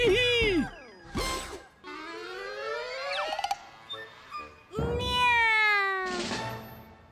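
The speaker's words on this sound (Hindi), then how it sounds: "ये तो मेरी मैजिक कैट ही है" A cartoon cat gives a run of loud, drawn-out meows with sliding pitch, several calls in a row with short breaks between them, high and clear and close up.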